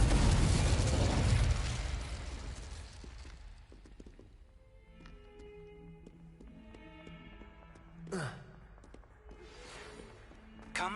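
Confringo and Incendio spell blasts erupt in Hogwarts Legacy, a loud fiery explosion that roars and fades over several seconds, followed by game music and a second whooshing burst near the end.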